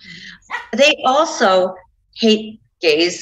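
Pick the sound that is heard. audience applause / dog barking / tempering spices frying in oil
dog barking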